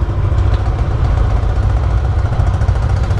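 A motorcycle engine just after a cold start idles steadily up close, a loud, low, even putter with a slightly rough, continuous throb.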